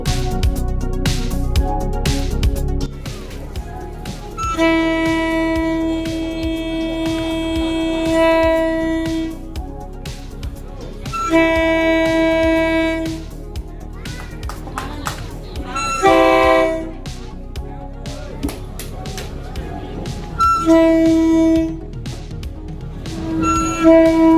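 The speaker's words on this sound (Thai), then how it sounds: "ขณะนี้รถไฟกำลังจะออกจากสถานีแล้ว" A train departing through the Maeklong railway market in Samut Songkhram, Thailand, toots its horn repeatedly in long sustained blasts, with rumbling rail noise and bustling market sounds throughout.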